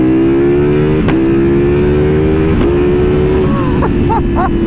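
A 2023 Ducati Panigale motorcycle engine revs hard and close, a loud continuous droning roar with a few sharp exhaust pops and cracks breaking through.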